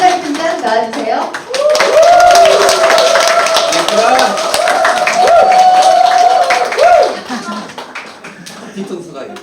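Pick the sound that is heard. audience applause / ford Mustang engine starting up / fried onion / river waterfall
audience applause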